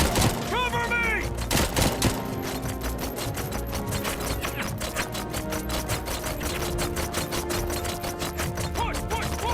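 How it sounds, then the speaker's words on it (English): Rapid covering gunfire in the RoboCop Rogue City video game crackles in dense, continuous bursts, with a shouted voice briefly cutting in near the start. "Covering fire! Cover me!"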